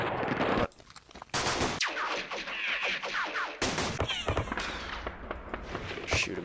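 Machine gun fire and an artillery barrage in a World War II strategy video game, with loud continuous rattling bursts and booming impacts layered densely throughout, briefly dropping off before resuming.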